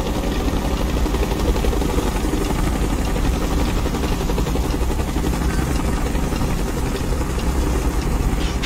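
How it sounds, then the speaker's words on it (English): Helicopter flying in the video game Call of Duty Black Ops 2, a constant heavy rotor chop and low engine drone, loud and close throughout with no pauses. "Chopper coming, get your head down."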